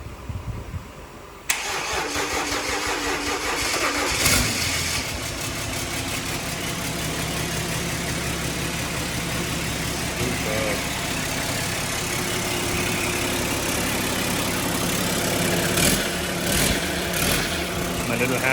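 The M57 diesel engine in an 8HP Defender build cranks and fires after a quiet moment, then settles into a steady, loud, close idle with slight revving near the end.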